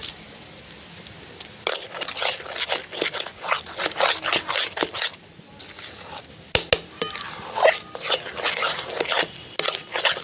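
Spoon scraping and stirring cabbage with salt, turmeric and asafoetida in a metal pan, a run of close, irregular scrapes and clinks with short pauses between strokes.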